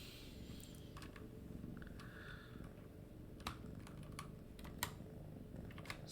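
Someone types on a computer keyboard with quiet, sparse key clicks in an irregular rhythm, plus a few sharper taps. The typing sits close and alone at low volume.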